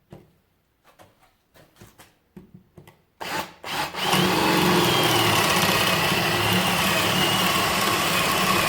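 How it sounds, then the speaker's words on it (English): Parkside PSBSA 20-LI B2 two-speed cordless impact drill boring into wood: a few short taps and bursts, then a loud, steady, continuous drilling whine that holds close and alone to the end. "Let's try to drill on the wood."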